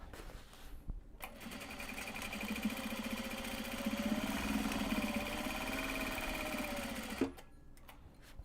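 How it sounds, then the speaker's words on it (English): A sewing machine stitches Japanese fabric for a drawstring bag, a close, steady mechanical whir running for several seconds between brief pauses. "I just make sure to only sew the one side"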